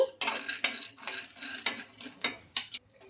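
Peanuts are stirred and lightly fried in a pan, with a spoon scraping and clattering against the metal in irregular bursts over a soft background, close and without talk.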